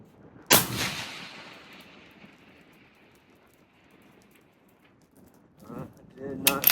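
A single sharp, loud crack from an Accuracy International .308 rifle fired at a 1000-yard target, followed by a long rolling echo that fades away, and then a voice speaks near the end.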